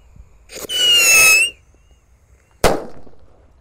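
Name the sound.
rocket firecracker going off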